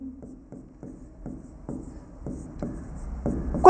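Chalk or marker writing on a classroom board during a biology lesson, a run of short scratchy strokes in an irregular rhythm, close and clear with no talking, ending in a louder bump.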